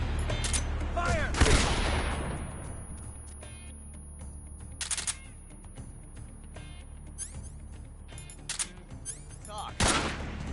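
Bursts of gunfire in the Metal Gear Solid 3 video game, a loud volley early followed by further shots and scattered reports, with voices calling out amid the shooting.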